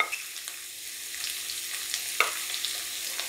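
Long-sliced onions frying in hot coconut oil for egg curry, a continuous close sizzle with light crackles and a few sharp pops and spoon taps, no voices.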